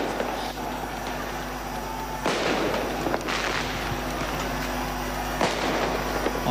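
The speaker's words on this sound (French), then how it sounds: "On voit les coups de canon qui sont en train d'être activés." Ceremonial cannon salute shots fired during a presidential parade arriving at the palace, heard as a few sharp booms spaced seconds apart over a steady crowd din.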